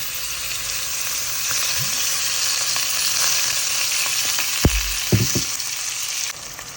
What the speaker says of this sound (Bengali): এখানে চিকেন রান্না করতেছি।